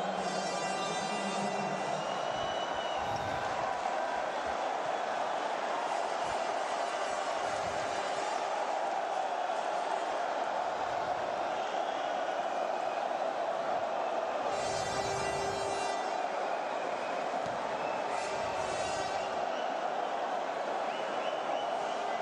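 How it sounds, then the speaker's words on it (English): Basketball crowd in an arena in Larissa, Greece, during a World Cup qualifier, a steady murmur with rising swells of cheering that sit under continuous talk. "Crowd having fun here."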